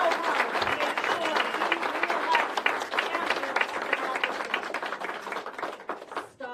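Applause from a crowd at a get-out-the-vote political rally in Las Cruces, a dense, steady wash of many hands clapping for the organizers, fairly loud throughout and tapering at the end, with some voices mixed in.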